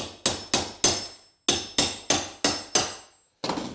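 Hammer blows knock shower tiles off a wall during a bathroom tear-out, about ten sharp, close strikes in a steady rhythm with a brief pause partway through, no talk.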